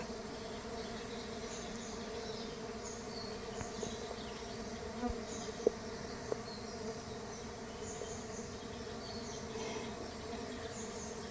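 Stingless bees buzz steadily around their hive in a home beekeeping setting, a soft continuous droning hum with faint higher whines of individual bees passing close, occasional tiny clicks, and no voices.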